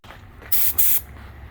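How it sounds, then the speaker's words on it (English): Two short bursts of aerosol spray primer paint on a Toyota JZX100 Chaser hiss sharply and close by, each lasting about a quarter second, with a faint background hum between them. "I decided to go over the spray paint primer with real primer"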